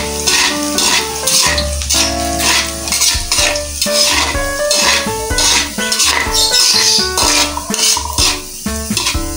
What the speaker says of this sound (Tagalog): mag-igisa na tayo ng bawang. Haluin natin ng unti